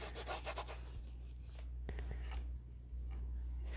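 A paintbrush scrubs unbleached titanium acrylic paint onto canvas for a beach painting, giving soft, close rubbing strokes in short bursts and a quieter scratchy stretch, with faint background hum and no speech.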